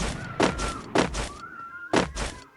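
An AWM sniper rifle fires in a mobile shooter game, three heavy, booming shots spaced about a second apart over a steady game soundscape with a faint tonal hum.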